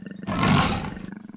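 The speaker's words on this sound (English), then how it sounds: "Like the other big cats, they have a great roar." A leopard gives one short, loud, rough roar that swells and fades within about a second, with rhythmic breathy grunting before and after it.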